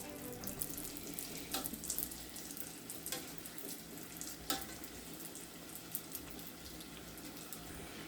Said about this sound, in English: Look at that. They're sizzling.